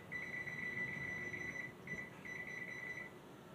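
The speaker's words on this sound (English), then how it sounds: "We're going to put the kitchen timer on." A kitchen timer beeping in a home kitchen during baking, giving a steady high-pitched alarm tone in a few sustained bursts with short breaks, close and fairly clear over faint room noise.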